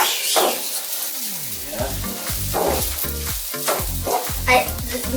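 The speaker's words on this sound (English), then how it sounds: "And sounds sizzling." Seafood chow mein sizzles loudly in a hot pan while being stir-fried, a constant crackling hiss broken by repeated scraping and tossing strokes.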